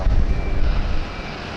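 A jet aircraft lands on runway 16 right at Sydney Airport, giving a loud, broad engine roar with wind rumble that fades slightly over its short span.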